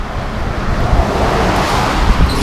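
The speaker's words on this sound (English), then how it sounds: "Traffic is crazy again." Loud, continuous roar of road traffic close by, a dense broadband rumble with slight swells as vehicles pass, wind buffeting mixed in.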